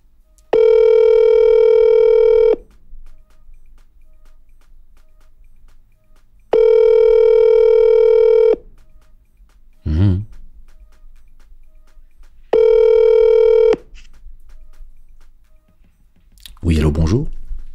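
A telephone call rings out in three long electronic tones with pauses between them, loud and close, while brief voice bursts come in between the rings.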